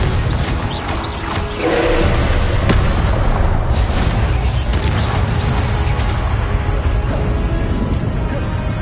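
Confringo explosive spell in the video game Hogwarts Legacy, booming blasts and roaring rumble over a noisy combat scene, loud and continuous with brief sharp hits, with faint voices mixed in.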